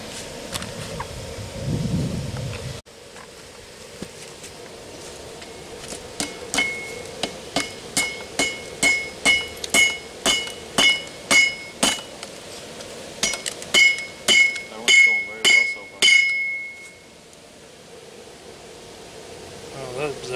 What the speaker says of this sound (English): I'll hold it, and you hammer, and we'll see if we can get you on a bigger hammer